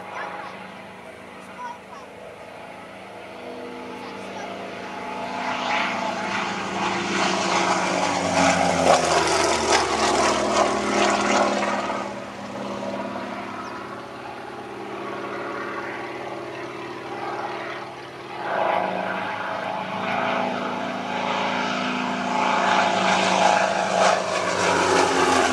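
A Westland Lysander propeller aircraft flies past at an air show, its engine drone swelling and fading as it passes, loud and broadband, with a second rising pass toward the end.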